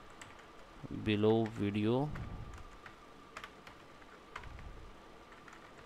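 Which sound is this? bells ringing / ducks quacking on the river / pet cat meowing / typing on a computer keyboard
typing on a computer keyboard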